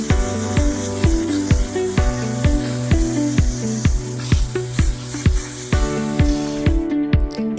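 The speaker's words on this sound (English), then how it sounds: "Rinse off the dirt." A water spray rinses dirt off canna lily rhizomes, a steady close hiss broken into regular pulsing bursts that stops abruptly near the end.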